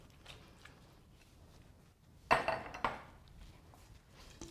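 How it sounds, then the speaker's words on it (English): Utensils scrape and clink in a bowl while garlic, basil, tomatoes and green onions are tossed together for a fresh vegetarian pasta sauce, with two sharp clatters in the middle over a quiet kitchen background. "we're going to mix this in with the tomatoes and the green onions"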